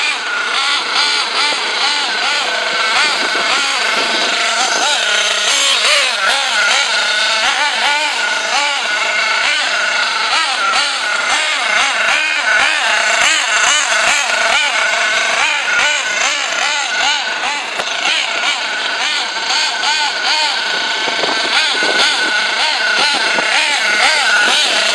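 A Picco .28 model nitro engine runs during break-in in cold weather, with a loud, continuous high-pitched buzzing whine and wavering pitch as the throttle varies, close to the microphone.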